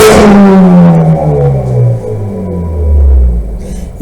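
A car engine revs loudly nearby, its pitch swooping down as the revs fall, then rising again into a deep rumbling roar.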